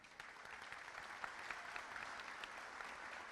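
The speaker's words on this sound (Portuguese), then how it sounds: "aos quais peço uma salva de palmas" Applause at the solemn opening of a state union congress, a continuous crackle of many clapping hands heard faintly and at a distance, steady throughout.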